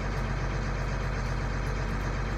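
An FMTV military truck idles with its muffler removed and exhaust moved further back, making a continuous low diesel rumble with steady pulsing and no talk over it.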